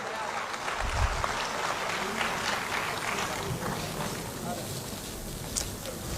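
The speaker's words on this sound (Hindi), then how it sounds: "भरपूर तालियों में इस्तकबाल कीजिए अबरार काशिफ साहब का" Applause from the audience at a poetry recital, a steady crackle of clapping with a muffled thump near the start and the crowd noise carrying throughout.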